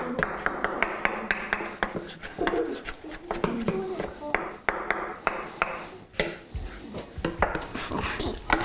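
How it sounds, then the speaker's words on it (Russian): Rapid knife taps on a cutting board as cilantro is chopped, irregular chopping strokes close by, with a faint low hum underneath. "Нарезаю кинзу."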